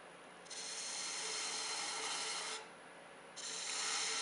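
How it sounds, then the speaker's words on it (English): Easy Wood detailer tool cutting a turning wood spindle on a lathe, a steady close scraping rasp that drops briefly to a softer hiss midway before resuming at full strength. "I've picked up the easy wood detailing tool."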